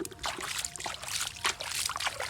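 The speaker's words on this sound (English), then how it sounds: "now I put some water so we can see some parts of any cars here" Water poured over toy trucks gives irregular trickling and splashing bursts, close and fairly loud, in short uneven spurts across the clip.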